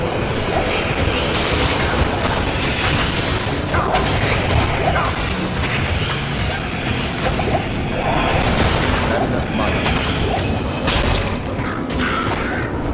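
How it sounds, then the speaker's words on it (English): Explosions and combat effects from the video game Diablo II: Resurrected form a loud, continuous wall of crashing, booming noise that never lets up. "Forgot I had a explosion."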